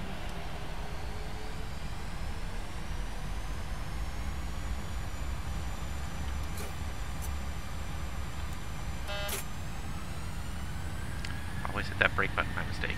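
Airliner engines spooling up for takeoff in a flight simulator, a steady low roar with rising whine tones building gradually, plus a few brief clicks and chimes near the end.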